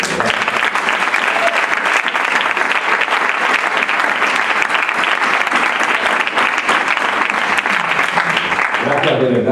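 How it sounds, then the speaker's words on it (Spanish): Audience at a coaching conference bursts into continuous, dense clapping that stays loud and even for about nine seconds before tapering off at the end. "¿les podría dar un aplauso? Vamos a dárselo."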